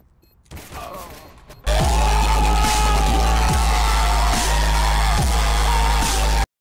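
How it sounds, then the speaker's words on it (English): Video game gunfire hits the player from a bot in a shooter on a laptop: a quiet lead-in, then a loud sustained burst of rapid shots with regular heavy thumps, ending abruptly in silence. "watch me get shot by a bot"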